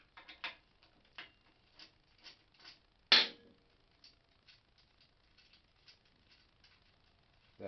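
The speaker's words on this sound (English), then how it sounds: "Got to take the retainer bolt out." A hand ratchet backs a tight retainer bolt out of a belt grinder, giving a rapid series of dry clicks with one louder clack midway, close and alone.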